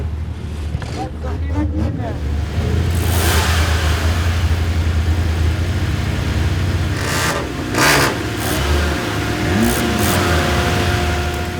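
A car prepared with heavy reinforcements revs its engine hard at a charity event, a loud sustained roar with surges and fluctuations, accompanied by crowd noise and intermittent voices.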